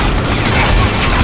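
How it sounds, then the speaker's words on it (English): A rocket explosion in the co-op shooter Army of Two on PS3 makes a loud, dense, roaring blast with rumbling debris that fills the whole moment, and a voice can be heard faintly beneath it. "Whoa! Fucking rocket!"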